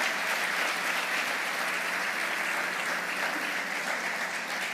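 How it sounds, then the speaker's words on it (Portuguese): An audience gives a steady round of applause, a thick, even wash of many hands clapping at once that holds at constant loudness throughout, with no voices standing out. "vocês vão dar uma salva de palmas para esse grupo aqui também"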